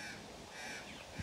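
Crows cawing in alarm near a coastal carpet python up a palm tree outdoors, a faint harsh call at a distance over a steady background hiss.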